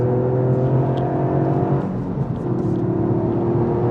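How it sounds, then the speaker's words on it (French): A car engine drones loudly from inside the cabin, briefly dipping as it shifts, then climbing again to a strong, high-revving whine. "Dès qu'on atteint les plus hauts régimes, ici, ça envoie beaucoup plus fort."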